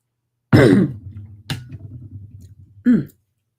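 A forceful throat clearing, close to the listener, trailing into a low rumbling rasp and ending with a second short harsh clearing.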